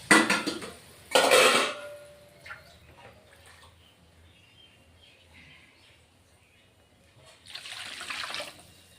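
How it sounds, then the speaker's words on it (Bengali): Water poured into a pan of sautéed spices for a thin katla fish and potato curry: a short splashing burst, another loud splash with some clatter, then quiet and a renewed bubbling hiss at the end. "এবার বন্ধুরা আমি জল দিয়ে দেবো"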